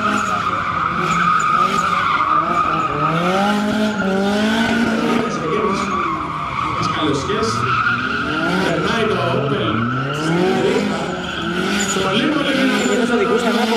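Ford Shelby GT500 skidding at a stunt driving show at an indoor tuning event, long sustained tire squeals that rise and bend in pitch over a roaring engine, loud and continuous with crowd noise underneath.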